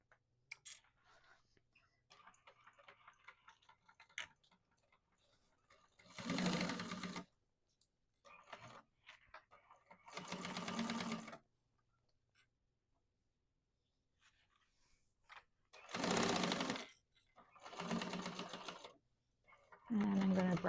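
A sewing machine stitches a bag seam from the bottom up, running in several distinct bursts of rapid, steady needle clatter separated by quiet pauses, close and clear.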